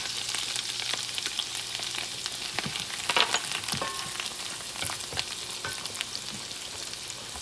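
Oregano, thyme and garlic sizzle steadily in a pan on lowered heat, a continuous close frying hiss with occasional stirring clicks and no talk.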